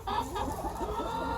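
Backyard free-range chickens cluck softly and steadily close by, a low murmuring flock with no talk over it.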